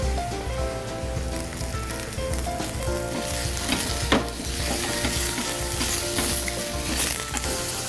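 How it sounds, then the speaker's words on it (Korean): Minced garlic, mushrooms and zucchini sizzle steadily in a pan with cooking oil and olive oil, a dense continuous frying hiss with occasional stirring scrapes and a brief clack near the middle, no voices. "팬에 식용유, 올리브유, 여기에 다진 마늘을 넣고 여기에 버섯과 호박 다 넣어주세요"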